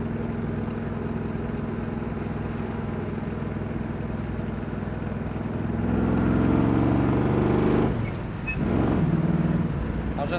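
A 1980 Chevrolet Camaro Z28 with a four-speed manual drives along, its engine droning steadily, then revving louder before a brief drop and pickup as it shifts gears.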